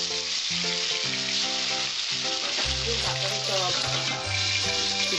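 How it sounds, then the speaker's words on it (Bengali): Pabda fish sizzle steadily in hot oil in a home kitchen, a continuous soft crackling fry running throughout beneath louder background music. "এবার আমি এর মধ্যে মাছটা ভেজে নেব।"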